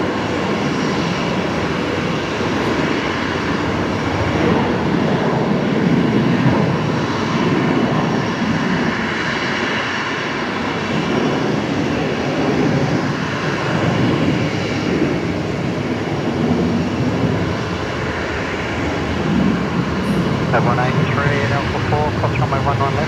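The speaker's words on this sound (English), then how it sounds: "Next departure though, Velocity 474 going to Perth, and now rolling." Velocity Boeing 737-700 starting its takeoff roll for Perth at Brisbane Airport, a steady broadband jet engine roar held throughout at moderate distance, with people talking over it.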